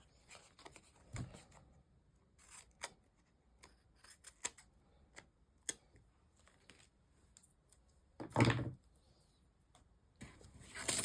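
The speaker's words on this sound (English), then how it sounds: "I'm just going to trim off my excess by trimming towards the corner of the cardstock" Scissors trimming excess cardstock toward the corner, a series of crisp, close snips spaced irregularly across quiet gaps, with a few louder rustles of card being handled.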